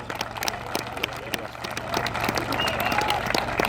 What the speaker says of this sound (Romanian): Hai să aplaudăm încă o dată podiumul Clasic Pro.